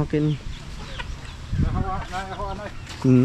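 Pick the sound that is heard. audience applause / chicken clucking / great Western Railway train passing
chicken clucking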